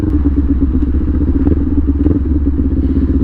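Kawasaki Ninja 400 motorcycle at full throttle, a loud, steady engine roar with a dense low drone and rough clatter, close and continuous throughout.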